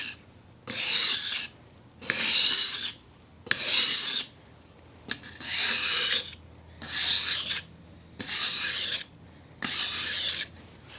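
A knife blade with a white rubber guard is drawn along a sharpening stone in eight even, rhythmic strokes, each a loud close gritty rasp separated by short pauses.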